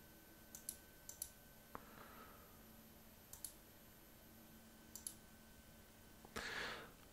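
A few sharp, faint computer mouse clicks spaced across a quiet stretch while Microsoft Access windows are opened and closed, with one slightly louder click near the end.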